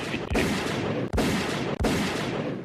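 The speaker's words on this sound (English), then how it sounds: "Do you hear what I hear? Yeah, gunshots." Three sharp gunshots in a recorded clip ring out at steady intervals, each a loud crack over a dense, continuous noisy background.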